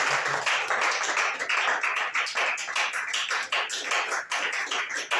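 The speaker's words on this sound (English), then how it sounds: "let's give a round of applause to the director" Steady, close applause from a seated audience at a school staff seminar, many hands clapping continuously for several seconds with no talk over it.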